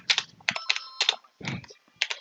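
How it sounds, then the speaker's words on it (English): Keys clatter on a computer keyboard in short bursts of quick taps with brief pauses between them, close and fairly quiet, with no voices. "You could type anything you want"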